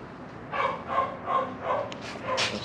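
A big dog barks five times in a steady rhythm, fairly close and loud, outdoors by a car during a music video shoot, with no talking over it.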